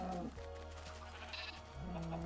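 A sheep in Minecraft bleating, one drawn-out close bleat and then the start of another, with no talk.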